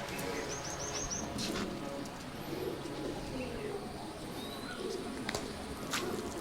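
Giribaj pigeons give soft, low coos amid a busy outdoor background, with a few faint chirps and brief clicks scattered through the steady ambience.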